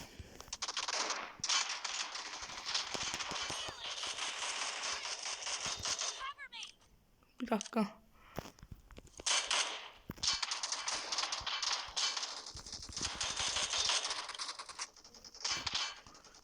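Gunfire in the mobile battle royale game PUBG Mobile, bursts of rapid automatic shots running almost continuously, broken by a short lull, with game sounds and voices talking over it.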